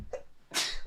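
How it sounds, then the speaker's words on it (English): A single close sneeze bursts out after a soft intake of breath, loud and sharp, with no talk around it. "I've had the coughing fit and I've got the sneezes."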